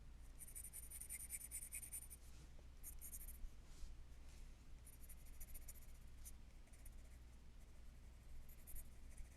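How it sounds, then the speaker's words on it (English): A bare, unsharpened pencil scratches across paper while a face is drawn, a continuous close rasping of short strokes with brief pauses, over a low background hum. "And so it just scratches like crazy, you know?"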